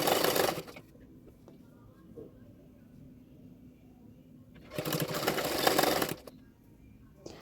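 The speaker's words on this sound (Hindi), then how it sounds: "½ इंच मार्जिन रखते हुए मैं स्लीव सिलाई कर रही हूँ" Sewing machine stitching a blouse sleeve with a half-inch margin, two short whirring runs of rapid needle strokes separated by a quiet pause with faint handling noises.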